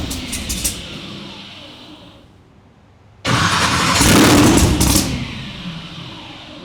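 The TT Shark car's engine stutters, falls quiet, then suddenly roars to life and revs hard under throttle before easing back, loud and close.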